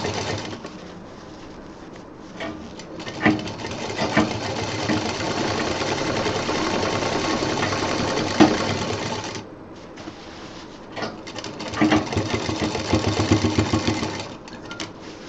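A sewing machine stitches a homemade college bag, running in long continuous bursts with a steady rapid whir, pausing briefly near the middle before a few shorter runs, close and clear.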